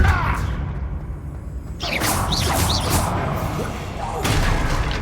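A Depulso force spell in Hogwarts Legacy strikes with a sharp whooshing crash, followed by rattling debris and a second burst of impact noise over ongoing game ambience.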